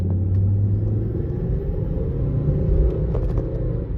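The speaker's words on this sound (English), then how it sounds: "really hearing those turbos there, they really help this car get up to speed pretty quickly" A 2016 Volvo S60 with a turbocharged four-cylinder engine accelerates with a loud, deep rumbling that rises in pitch, heard from inside the car.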